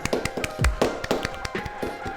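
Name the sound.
people clapping for themselves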